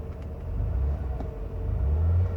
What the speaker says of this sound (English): The car is running.